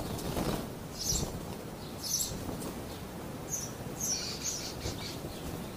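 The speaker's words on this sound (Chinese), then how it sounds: "就像接到命令一样，旧房屋里的鸟儿开始行动。" Birds burst into flight from old houses, with several quick flurries of flapping wings and faint high chirps over a rustling background, spaced about a second apart.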